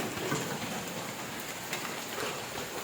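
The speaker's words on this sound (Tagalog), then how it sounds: "umulan na din. Yan, bulimlib yung panahon na sa amin dito. Kasi umulan na." Steady rain falling outdoors, a dense continuous hiss of drops with no breaks, fairly close and alone.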